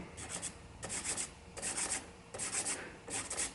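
A tobacco pipe's briar stummel being ground or sanded by hand, four rhythmic rasping strokes in quick succession, close and gritty with short pauses between.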